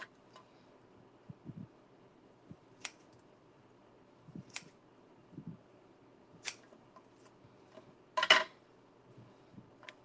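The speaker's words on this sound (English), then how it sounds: "We're gonna cut some strips to do" Pie dough cut into strips for a lattice top at a baking event: sparse, quiet, irregular cutting clicks and scrapes with a louder clatter near the end, over a faint room hum.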